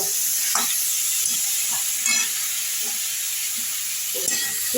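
Vegetables and soft pumpkin fry with salt and turmeric in a pan, a close, steady sizzle broken by repeated scraping stirs at an uneven rhythm.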